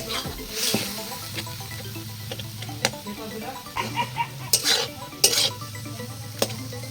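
Bengali tomato chutney with raisins, cashews and dates being stirred in a pan, with scraping spoon-on-metal strokes, light clinks and a soft sizzle, close and irregular, no speech.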